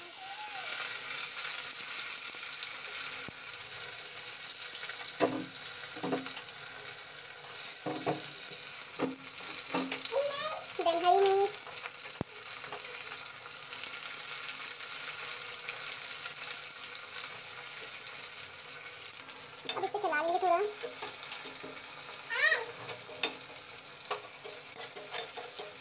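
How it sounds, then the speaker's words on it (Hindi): Garlic sizzles and fries in very hot oil in a home kitchen, a steady close crackling hiss that runs throughout, with occasional stirring clinks and bursts of sputtering. "तेल गर्म है, बहुत ज़्यादा ही गर्म है तेल। अब उसके बाद हम डालेंगे लहसुन"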